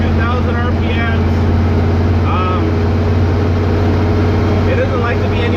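A carbureted LS 5.3 V8 swapped into a Dodge W100 truck hums steadily while towing, with a loud, even low drone held around cruising revs and someone talking over it.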